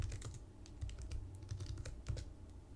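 Fast clicking of computer keyboard keys while Python code for an if/else example is typed, a steady close patter of keystrokes with no talk.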